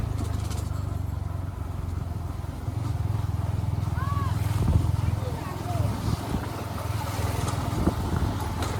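A superbike rides along a village lane, its engine a steady, loud low drone throughout, swelling slightly midway, with wind noise and a few faint higher whines over it.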